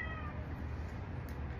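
A hungry cat meows repeatedly in a quiet kitchen, the calls faint and thin against a steady low background hum.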